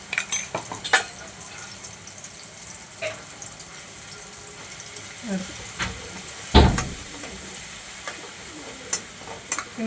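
A tempering sizzles quietly in a pan, with scattered clinks and one louder clatter of kitchen utensils partway through.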